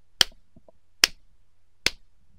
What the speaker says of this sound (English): they will clap three times very loudly so that the claps will appear on the timeline.